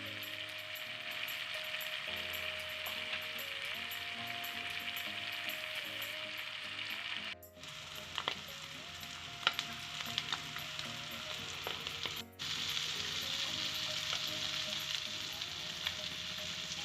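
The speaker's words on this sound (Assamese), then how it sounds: "ডিমখিনি লাহে লাহে লুটিয়াই ভাজি ল'ম।" Eggs frying in a pan with masala, a continuous close sizzle with soft scrapes as they are turned slowly, briefly dipping twice.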